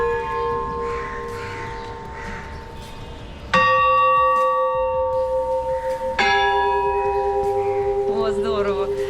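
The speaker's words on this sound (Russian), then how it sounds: "Мы здесь видим 4 колокола," Church bells in a bell tower strike twice, loud and close, each ringing out with a long, shimmering decay, followed by a quicker run of lighter strikes near the end.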